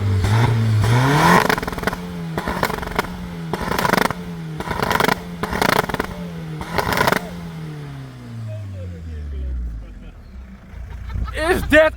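A 400+ horsepower MK2 TDI car engine, newly built, revs in repeated sharp bursts against the limiter, then its pitch falls away as it settles; voices talk and exclaim over it.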